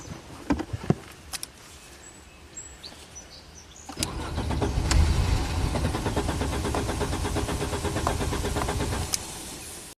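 An abandoned Audi turbo engine cranks with a few sharp clicks, then catches at about four seconds and settles into a steady, fairly loud idle that runs to the end, close by with no talking.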